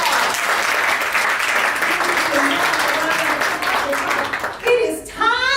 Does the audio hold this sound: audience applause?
yes